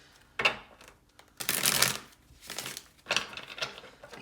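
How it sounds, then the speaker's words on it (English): Tarot cards are shuffled in quick riffling bursts, three or four papery flurries separated by brief pauses, close and fairly quiet. "Wasn't great shuffle."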